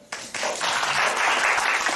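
An improv theater audience at a Dungeons & Dragons show claps to cast a vote, the applause starting abruptly after a brief pause and swelling into a loud, sustained burst of many hands.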